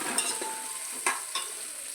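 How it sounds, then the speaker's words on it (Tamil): Onions with salt sautéing in oil until golden for a vegetable biryani, a soft continuous sizzle marked by a few sharp spoon scrapes against the pot, with no talking. "இதில் நல்லா அந்த வெங்காயத்தை எல்லாத்தையும் போட்டு நல்லா கோல்டன் கலர் வர்ற அளவுக்கு நல்லா வ வதக்கிக்கலாம்"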